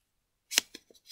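Paper folded and pinched into origami triangle folds, a few crisp close crinkles and snaps in quick succession.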